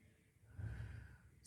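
A single sharp sniffing inhale during a Pilates exercise, quick and close, rising briefly and then trailing off into soft breath.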